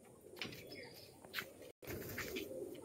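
Pet pigeons being brought to a cage coo softly in a steady, low murmur, with a brief dropout partway through.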